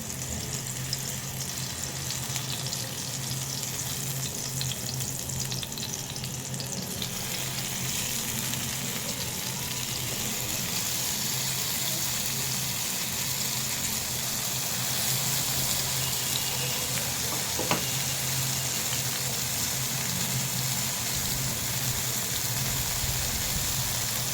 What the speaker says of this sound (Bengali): তাইলে আমি বেগুনগুলা দিয়ে দেয়